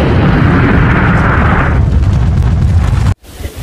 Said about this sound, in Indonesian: Kita tabain petasan ya masih Kisut.